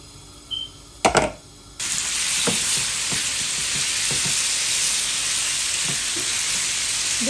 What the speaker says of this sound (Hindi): बस हमने फ्राई करना है इस चिकन को जब तक कि हमारा चिकन अच्छे से पक नहीं जाता।